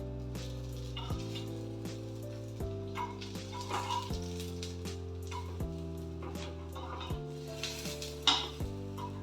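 Kuzhi paniyaram batter sizzles and fries steadily in the cavities of the pan, a soft continuous crackle beneath louder background music.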